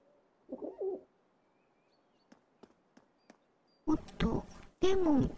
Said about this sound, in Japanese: 鳩か。